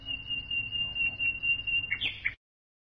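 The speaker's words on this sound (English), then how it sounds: "Nightingale." Nightingale singing, a thin steady high whistle held for about two seconds and then a short burst of bright chirps just before the sound cuts off.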